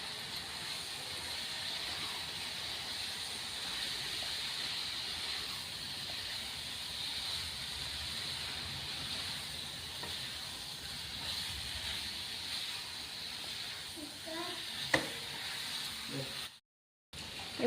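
Soybean chunks sizzling as they are sautéed with masala in a little oil, a steady close hiss throughout with a few faint pops and clicks, briefly cut off near the end.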